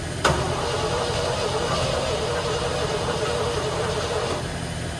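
A 1960 Corvette engine cranks steadily without firing, a continuous mechanical churn lasting about four seconds after a sharp click at the start, heard close and loud.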